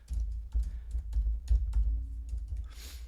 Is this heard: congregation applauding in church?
no